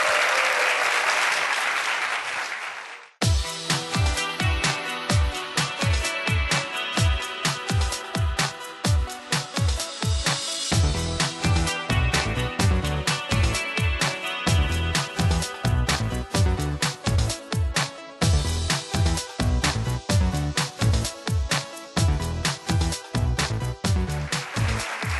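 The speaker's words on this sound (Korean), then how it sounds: "박수 주세요." Audience applause at a youth startup pitch event, sustained clapping that swells after a short lead-in and holds steady and loud for over twenty seconds, with no talking.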